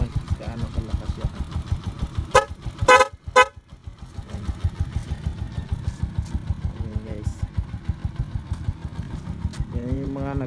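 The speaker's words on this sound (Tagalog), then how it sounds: "Pia horn pala yan" A loud Honda TMX Alpha motorcycle horn gives a couple of sharp honks over the idling engine's steady putter, close up, with a brief rev near the end.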